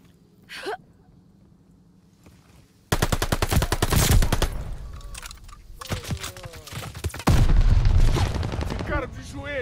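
Bursts of MP40 submachine gun fire in Call of Duty: Vanguard multiplayer, loud rapid automatic volleys after a quiet start, with a brief gasp early on and bursts continuing through the rest.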